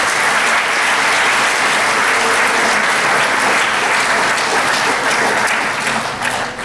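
Loud, continuous applause fills a school assembly hall for distinguished alumni award recipients, a dense wash of many hands that tapers slightly at the very end.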